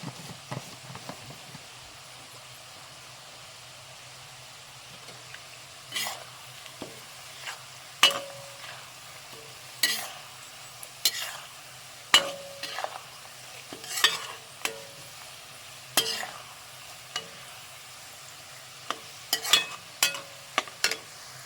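Chunks of tuna and dried red chillies fry in a pan for tuna pickle. A faint, low sizzle runs underneath while a spoon scrapes and clinks irregularly against the pan throughout.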